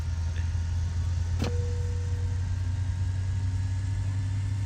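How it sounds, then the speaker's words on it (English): An MD-80 jet engine running steadily in Microsoft Flight Simulator, a constant low droning roar with a faint whine layered above it and a brief click partway through. "good start on engine number 2, so everything's stabilised, EGT's looking good"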